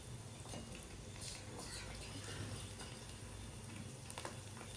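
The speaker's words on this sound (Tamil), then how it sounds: "கடலை எண்ணெய் சேர்த்து பொறுக்கிட்டு இருக்கோம்" Quiet, steady sizzle of food frying in groundnut oil, a soft continuous crackle with a low hum underneath, with no voices.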